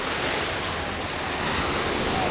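Small sea waves wash onto a beach on the Vietnamese coast, a steady close, even surf hiss running unbroken throughout with no talking.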